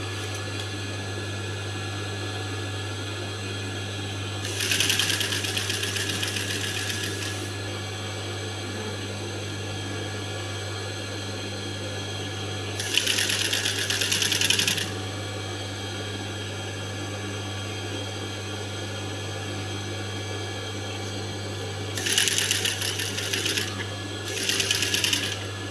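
Sewing machine stitching rolled piping on a blouse, three or four short bursts of rapid needle chatter, several seconds each, separated by pauses over a steady low electrical hum.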